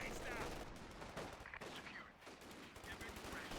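In Company of Heroes 2, an M19 and a sniper fire in dense, busy volleys of mixed shots and impacts that run throughout, mixed with faint commentary.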